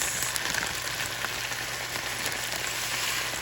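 Chipotle lime rice mix is sautéed with peppers in a pan, giving a soft, steady sizzling hiss that runs unbroken throughout without any talking.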